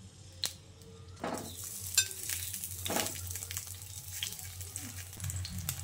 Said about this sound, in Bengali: এবার তেলটা গরম হয়ে এলে কেটে ধুয়ে রাখা পটলগুলো এর মধ্যে দিয়ে দিচ্ছি